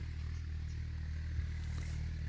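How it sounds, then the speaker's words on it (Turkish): A tractor engine drones steadily in a quiet village in Posof, Ardahan, a low continuous rumble with a faint clatter, heard alone without talk. "Sessizliği bir traktör sesi bozuyor."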